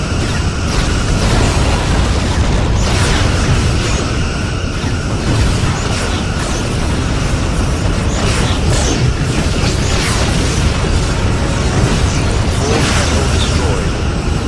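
Heavy booming explosions and rumbling combat noise as a Borg vessel is destroyed in the space game Star Trek Legacy, dense and loud throughout, with game voice lines over the din.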